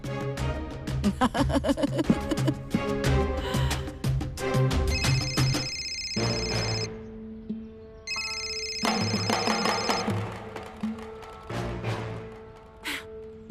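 A telephone rings in a Hindi TV drama scene, a bright electronic ringtone repeating in bursts with brief pauses, loud and alone with no talk over it.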